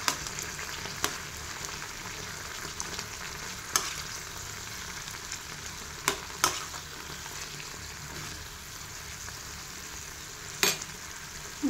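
Tomatoes frying in a pan for coconut chutney with mint and coriander give a steady soft sizzle throughout, broken by a few sharp clicks of stirring, close and moderately quiet, with no talk.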